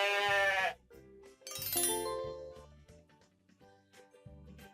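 A sheep bleats loudly in a short wavering cry, followed by a second bleat, with soft backing music continuing underneath.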